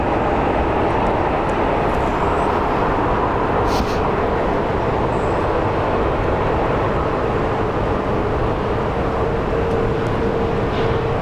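A Southwest airliner taxiing at Phoenix Sky Harbor airport gives off a steady, loud jet-engine roar that holds evenly throughout, with no voices.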